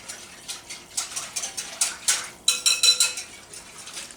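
Thickener being whisked into beef stew in a pot, a steady run of quick rhythmic scraping and clinking strokes from the whisk, close and moderately loud.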